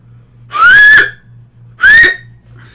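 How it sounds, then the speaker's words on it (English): A person whistles two short, loud notes close up, each rising slightly in pitch and separated by a brief pause, against a faint low background hum. "Can I whistle for you guys?"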